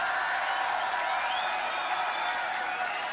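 A crowd applauds and cheers continuously at the Grand Beatbox Battle 2019, a dense, steady roar of clapping and voices throughout.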